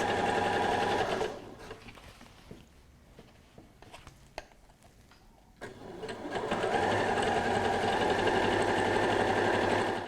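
Electric sewing machine running steadily as it stitches cushion fabric panels together, a loud continuous whirring rattle that pauses for a few seconds with faint clicks and handling, then resumes at full speed.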